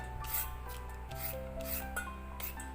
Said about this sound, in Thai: ขูดนะคะใช้ตัวขูดขูดนะคะ แล้วจิกลงไปแล้วก็ขูดเป็นเส้นอย่างนี้นะคะ